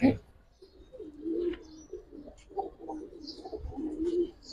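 Old-bloodline Giribaz pigeons coo in repeated low, throaty phrases close by, with short breaks between them and faint chirps in the background.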